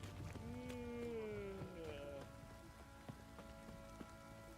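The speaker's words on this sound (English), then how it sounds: "This downpour's a bastard, it is." Heavy rain in a video game pours steadily on a surface, a constant hiss under a voice that speaks over it near the start.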